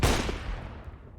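Burst of gunfire in Counter-Strike: Global Offensive during a league match, a loud sharp blast at the start that trails off into echoing reverberation over about a second.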